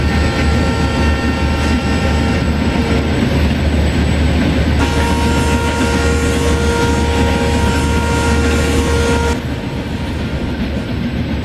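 A train runs in Indian Train Simulator, pulled by a WTP electric locomotive on the New Delhi–Bhubaneswar Duronto route near Ghaziabad. It is a loud, continuous rumble with steady rail noise and whining tonal hums throughout.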